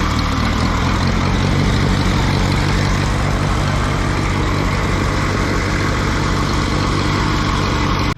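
An Allis Chalmers G tractor engine runs steadily, a loud, close, continuous mid-pitched chug with no break across the whole stretch and no voices, ahead of cultivator work.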